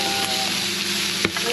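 Beef frying in a hot pan sizzles steadily and close up, a dense continuous crackle with a brief louder spatter near the end, and no voices over it.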